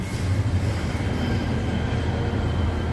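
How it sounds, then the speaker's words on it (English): A Metro subway train arrives at a station with a steady loud rumble of wheels on rails and a faint high squeal, with no talking. "But Daniel, I think the train's coming."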